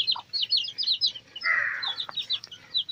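A native hen moving about with her chicks, with close, rapid high chirps and peeps from the chicks in quick runs and a brief softer call from the hen.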